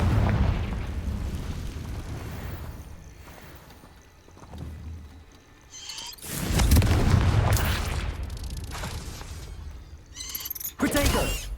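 Confringo fire spell blasts in a wizarding video game, with several loud bursts and booms breaking through a rumbling background, interspersed with quieter stretches.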